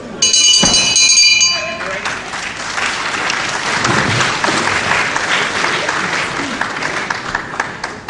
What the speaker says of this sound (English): really giving Hasouni applause when he does something very well.